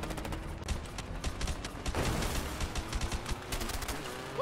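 Gunfire in the video game A Way Out, rapid bursts of shots rattling continuously over a rumbling background, a dense fusillade with no voices.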